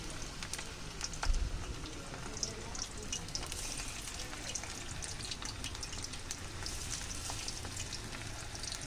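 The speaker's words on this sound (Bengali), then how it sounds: "আর তো ভাজাটা একটু কড়া করে দিতেছি।" Chicken pieces fry until crisp in hot oil, a dense continuous crackle and sizzle with small pops throughout, heard close at a moderate level and with no talking.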